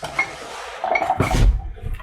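Ceramic and porcelain cups and dishes handled and set down, giving a few sharp clinks and clatters that bunch together near the middle, close and fairly loud, with no talk.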